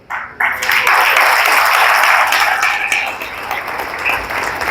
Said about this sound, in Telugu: కానీ మీరెందుకు క్లాప్స్ ఇచ్చారు?